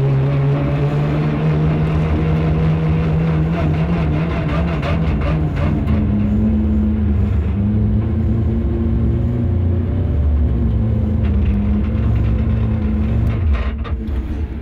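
A race car engine drives hard around a tight, technical track at ROC Düsseldorf 2010, with a loud, continuous droning roar that rises and falls in pitch through gear changes and corners, close and steady for the whole stretch, with no voices.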